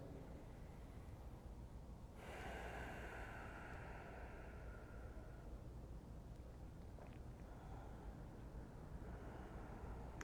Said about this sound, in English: Regular Ujjayi breaths.